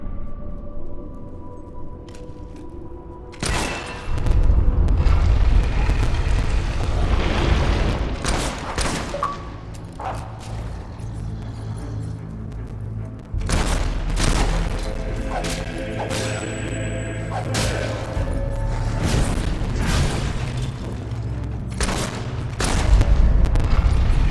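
Gunfire from a weapon in Fable 3, sharp loud shots in distinct bursts separated by quieter stretches with mechanical clanks, likely reload sounds between volleys.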